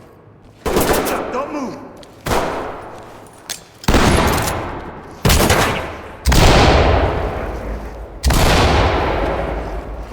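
Gunfire erupts in the tactical police shooter Ready or Not as a series of loud, sharp blasts. Six or seven shots ring out with echoing tails, and a voice shouts a command between them.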